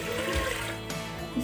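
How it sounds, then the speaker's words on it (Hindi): About two glasses of water are poured into a cooking pot on a stove for a turnip dish, making a steady splashing gush that fills most of the moment. "हांडिया में सबसे पहले हम डाल देंगे ये 2 गिलास तकरीबन पानी का"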